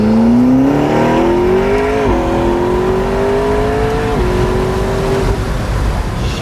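A McLaren 650S supercar engine accelerates hard in sport mode, a loud, close, rising roar with two gear shifts breaking the climbing pitch, no talk.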